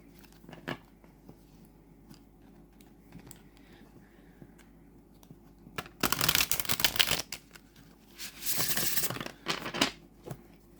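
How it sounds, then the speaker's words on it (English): Linen tarot cards are shuffled in two quick riffling bursts, crisp and close, with soft handling rustles between them. "It just shuffles so beautifully."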